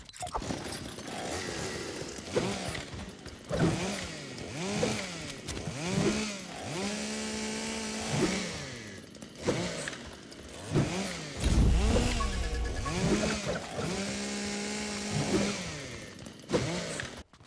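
Leatherface's chainsaw emote in Fortnite roars close and loud, the motor revving up and down in repeated rising and falling surges for the whole stretch.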